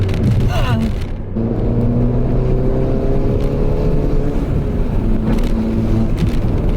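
A loud Ford Fiesta ST engine with a turbo downpipe revs and drones with a rumbling exhaust, pitch climbing steadily, while people talk faintly underneath.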